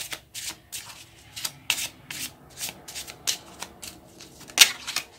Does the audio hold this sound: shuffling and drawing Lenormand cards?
yes